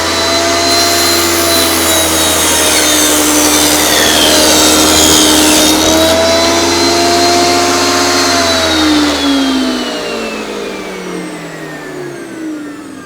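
A table saw rips a wood strip against its rip fence with a loud, high whine that holds steady through the cut, then drops in pitch as the blade winds down. No one speaks.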